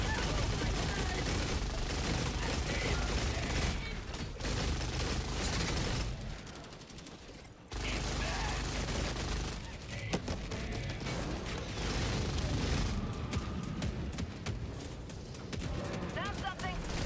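In Helldivers 2, a sentry turret keeps up dense, continuous gunfire in a loud, chaotic battle. Mechanical clatter runs through it, one brief lull interrupts, and voices talk over the fighting.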